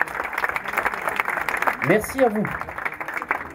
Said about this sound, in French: donc applaudissez-vous s'il vous plaît.